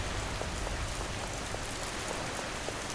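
Steady rain pours down in a dense, even hiss, with scattered drops ticking on a surface throughout the short stretch, no voices.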